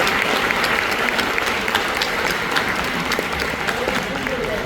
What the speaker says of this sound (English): So let's give him a round of applause for him.